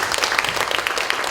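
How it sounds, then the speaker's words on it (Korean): A short, lively burst of audience clapping for the panelists at the close of a smart city forum panel session, with crisp individual claps standing out in the crowd. "오늘 세션에 나와서 수고해주신 우리 네 분의 패널 분들께 감사의 박수를 보내주십시오"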